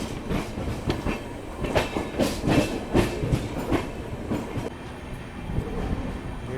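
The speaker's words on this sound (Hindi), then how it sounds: "ये खूबसूरत सी अमृत भारत एक्सप्रेस हमारी कर्व लेती हुई" An Amrit Bharat Express on its inaugural Sitamarhi–Delhi special run rounds a curve, its wheels producing a steady rumble with rhythmic clickety-clack beats over the rail joints, heard close and moderately loud without talk.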